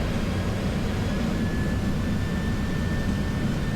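Jet engines of a Boeing 737-700 spool up to takeoff thrust, heard from the cockpit as a steady, loud, even roar that fills the whole stretch without letting up.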